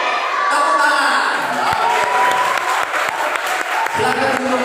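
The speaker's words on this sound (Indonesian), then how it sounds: "Tepuk tangan." Clapping and cheering from a crowd of children and adults at a church children's revival service, loud and lively with shouts and voices mixed in.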